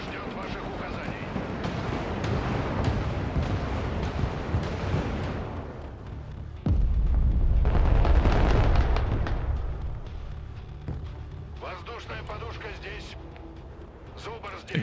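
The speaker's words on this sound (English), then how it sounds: "Rockets away." A rocket volley landing in the Broken Arrow modern warfare game, sounding as a dense rumble of blasts with a sudden loud, deep explosion midway that booms and slowly fades, mixed with a voice talking over the battle.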